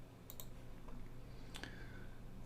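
Short sharp computer mouse clicks, a pair of quick clicks followed by another crisp click a second later, close and alone in a quiet room.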